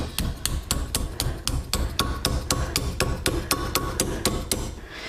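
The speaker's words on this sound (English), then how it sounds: "I'm going to use a nylon mallet and I'm going to form my cuff around an oval bracelet mandrel" A nylon mallet shaping a metal cuff bracelet with decorative gallery around an oval steel bracelet mandrel: a fast, steady run of close, sharp hammer strikes, about four per second, stopping near the end.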